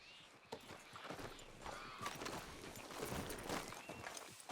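Horse hooves clip-clop at a walking pace in Red Dead Redemption 2, a steady close rhythm of hoofbeats over outdoor ambience with faint creaks.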